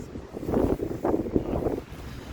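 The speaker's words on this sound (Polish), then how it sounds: "Wichura jest niesamowita. Uuu, śnieżyca." Strong mountain wind gusts through a snowstorm near Karpacz, roaring in steady, buffeting surges close to the microphone with no talk.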